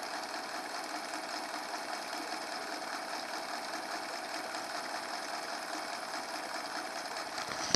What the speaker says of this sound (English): There's the Honda 8 horsepower.